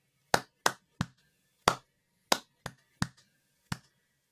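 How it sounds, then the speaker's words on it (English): Hands clap a simple rhythm together, eight sharp, dry claps spaced unevenly in a musical pattern, close and clear with silence between them. "So let's just clap the rhythm together."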